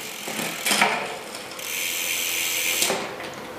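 Bicycle rear derailleur shifting across the cassette during a gear and limit-screw setup, giving repeated ratcheting clicks and a sustained whirring of the chain and mech over a few seconds, close and fairly loud with no talking.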